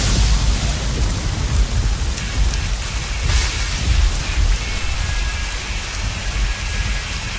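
Heavy rain pours steadily during a thunderstorm in an anime scene, a dense hiss of water on surfaces with low rumbling thunder underneath, constant and enveloping.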